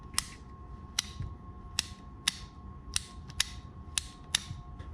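Baitcasting fishing reel mechanism pressed down, giving a series of about nine sharp, bright mechanical clicks at irregular intervals over a steady faint hum, close and alone.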